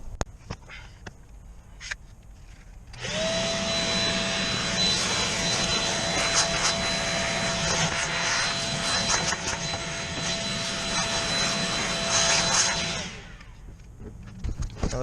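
A vacuum cleaner runs steadily on the carpet inside a car with a driver's dash cam cable, a loud continuous whine and rush lasting about ten seconds before cutting off, with quieter handling noises before and after.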